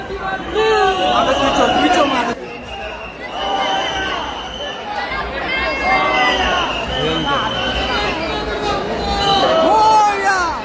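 Massive festival crowd at Dagdusheth Ganapati in Pune for the 2025 first darshan, a loud, unbroken hubbub of many voices with close speakers talking over it.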